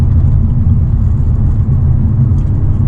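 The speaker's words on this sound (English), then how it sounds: "Very quick shifts from the 8-speed" A 2024 Hyundai Elantra N with an 8-speed DCT drones from inside the cabin, a steady loud engine rumble with only slight dips where quick gear changes might fall, no voices.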